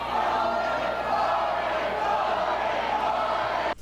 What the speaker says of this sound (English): the crowd continues to be disruptive as they begin to chant Hogan,